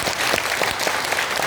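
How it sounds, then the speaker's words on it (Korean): Steady, dense applause from an audience filling the National Assembly hall, a continuous wash of many hands clapping close and moderately loud without a break. "박수 한번 주십시오."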